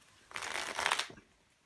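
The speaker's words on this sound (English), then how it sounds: "Excellent way to shuffle the cards" A deck of 1995-96 NHL Aces hockey playing cards is shuffled in one quick riffle, a close crisp flutter of cards lasting about a second.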